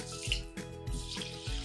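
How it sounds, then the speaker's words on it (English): Tap water runs over raw Japanese short-grain rice being rinsed before it is blended into rice bread batter, a faint splashing that swells and fades in short repeated pulses. "Rinse the raw"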